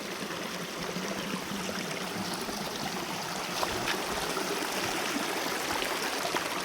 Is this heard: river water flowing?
yes